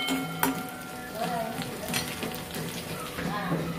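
Garlic fries in oil in a pan until it turns brown, giving a steady, soft sizzle throughout with occasional light scrapes and stirs of a utensil against the pan.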